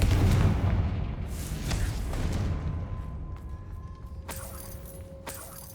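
A Confringo fire spell explodes in Hogwarts Legacy, opening with a heavy booming blast that rumbles and fades, followed by faint ringing tones and a few small crackling impacts.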